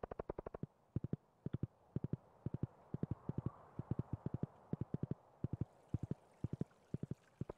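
Horse hooves clopping while riding in the video game Stardew Valley, quick bursts of sharp evenly spaced clip-clops repeating in short groups, fairly quiet and heard alone.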